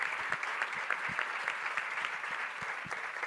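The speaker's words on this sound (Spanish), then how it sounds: "Un aplauso para Vega." A room full of people applauding steadily at a basketball season presentation, a continuous patter of clapping hands with no pauses, moderately distant.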